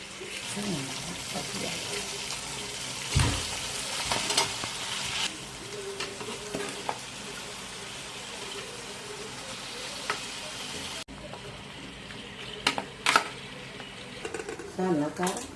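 Coriander and mint fry in a biryani tempering with a close, hissing sizzle, punctuated by spoon scrapes and knocks against the pot, while a voice talks intermittently over it.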